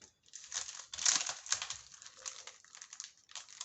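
Plastic storage strips being opened: quiet, close crinkling and rustling of plastic wrapping in irregular bursts, with brief louder crackles.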